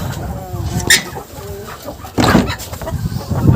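Backyard hens cluck and murmur close by in a busy poultry yard, soft intermittent calls with scattered louder squawks and some rustling, while a person talks nearby.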